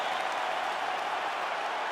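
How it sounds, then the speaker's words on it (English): A dense, steady wash of crowd applause and cheering fills a virtual arena at the end of a UFC bout in EA Sports UFC 5, continuous and loud with no individual voices standing out. "Stand and cheer, ladies and gentlemen"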